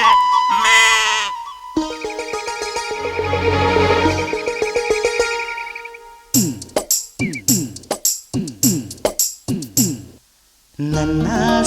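Lambs bleat repeatedly in a choppy series of short, loud calls that follow a stretch of music in a Kannada song, with brief pauses between the bleats.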